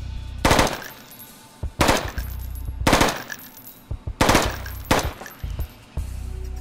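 Three-round bursts of gunfire in the 2D stealth shooter Intravenous: five loud, close bursts fired at roughly one-second intervals, each a quick cluster of sharp cracks separated by brief quiet gaps.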